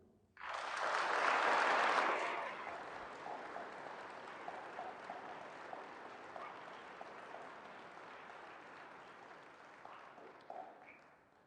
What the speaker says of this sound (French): J'aimerais ça qu'on applaudisse pour eux.